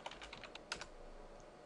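A root password being typed on a computer keyboard during a VMware ESXi 6 installation, heard as a quick run of soft, close key clicks with uneven rhythm, alone without speech.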